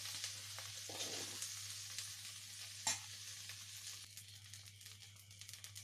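Soybeans fry in oil in a pan while being stirred, for a dum biryani: a steady close sizzle with scraping stir strokes throughout and one sharp clink near the middle.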